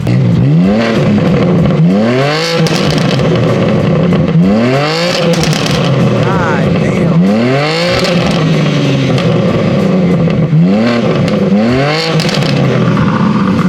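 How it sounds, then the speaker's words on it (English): A powerful sports car engine revs hard in repeated loud bursts, climbing and dropping every few seconds, with a brief exclamation in between. "You want some revs? Yeah, you should rev it."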